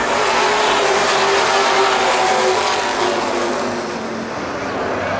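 Late model stock cars roar back to full throttle on a restart during the Gold Cup 100 at Baer Field Speedway, a dense, loud, continuous wall of engine noise from the pack, easing only slightly near the end.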